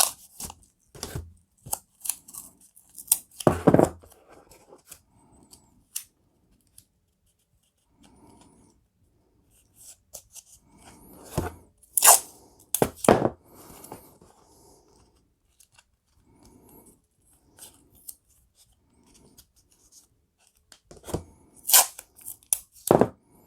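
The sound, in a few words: taping up a package with masking tape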